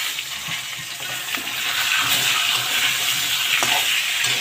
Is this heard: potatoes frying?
yes